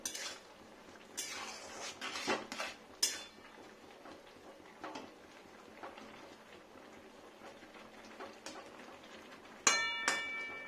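Whole okra pieces are turned in a cooking pan with a utensil, giving sparse clinks and scrapes of metal against the pan in quiet bursts, ending with a sharper clatter.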